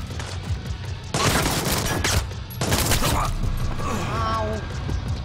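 Splinter Cell Blacklist game gunfire in two loud rattling bursts of rapid shots, each lasting about a second, over a continuous rumbling background, with a faint voice in between.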